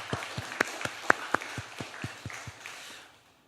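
A church congregation gives a short round of applause as a rhythmic, evenly spaced series of claps that fades out after about three seconds.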